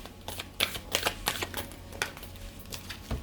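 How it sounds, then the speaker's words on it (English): Tarot cards being shuffled by hand, with crisp, close riffles and snaps in irregular bursts separated by short quieter gaps. "One more shuffle."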